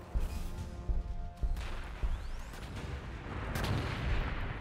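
Gunfire and artillery-like blasts from the Warhammer 40k: Gladius strategy video game as Astra Militarum units shoot at enemies, several heavy booming shots at irregular intervals over a dense rumbling battle background.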